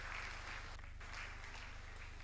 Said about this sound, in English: Deep round of applause for the governor on this occasion.